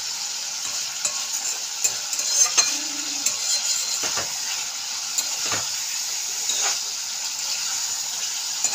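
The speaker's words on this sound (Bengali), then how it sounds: "মাছটা একটু সাঁতলানো রাখতে হবে" Koi fish sautéing in a pan with a light spice paste gives a steady bright sizzle and crackle, with occasional stirring scrapes and soft clinks, close and continuous with no talking.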